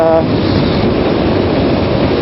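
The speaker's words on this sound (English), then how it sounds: "the rain's pouring down" Heavy rain pours down on a street in Rome, a dense, steady hiss and spatter with no break, close and loud, recorded while riding through it.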